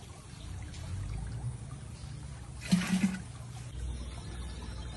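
Water scooped from a pond and poured into a container, a soft splashing pour swelling briefly near the middle over a low outdoor background hum.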